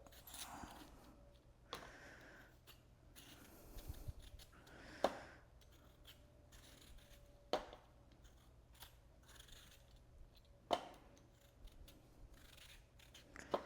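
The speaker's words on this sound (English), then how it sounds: "I'm just peeling the potatoes" Potatoes being peeled by hand for a Cornish hen dinner, a steady run of soft scraping strokes with sharper clicks every couple of seconds as the peeler catches, close and fairly quiet.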